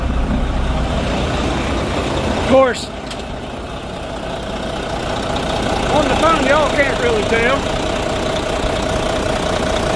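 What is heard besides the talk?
Volvo D13 diesel truck engine idling after injector O-ring install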